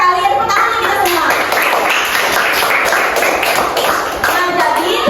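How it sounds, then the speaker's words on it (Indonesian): An elementary school class claps together in a classroom, a brisk, close burst of applause from many small hands lasting the whole stretch. "Tepuk tangan kita semua."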